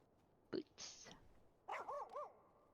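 A dog in the video game Final Fantasy XIV gives a few short, bright barks or yips in quick succession, after a couple of brief louder game sounds, fairly clear over a quiet background.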